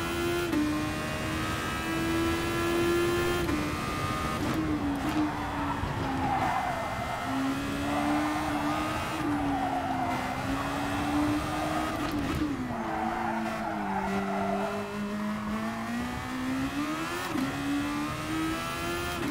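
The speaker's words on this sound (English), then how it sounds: "Drift for the boys." A car drifts in Gran Turismo Sport, its engine howling with rising and falling revs while tires squeal in long skids. The sound is loud and continuous, broken by gear shifts, with no talking.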